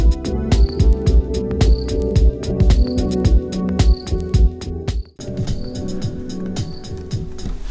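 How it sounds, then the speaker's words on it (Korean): Crickets chirp in repeated high pulses woven through the mellow hip-hop beat of Nujabes' "Light on the Land", steady and prominent alongside drums and instruments. "이거 귀뚜라미 소리 진짜 미치지 않았습니까?"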